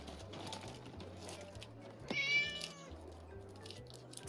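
A black cat gives a single short, clear meow midway, fairly close, set against a soft, steady low background with no talking.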